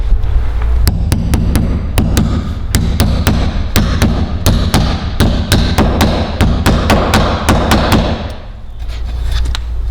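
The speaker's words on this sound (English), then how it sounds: "we're going to hit this with a hammer, top and bottom" A hammer drives a steel stud protector plate into a wood stud, striking only its ends: a quick run of sharp, loud metallic hits, steady and close, with a brief pause near the end before more blows.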